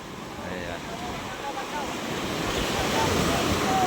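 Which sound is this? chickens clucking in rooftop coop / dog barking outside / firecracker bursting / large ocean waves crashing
large ocean waves crashing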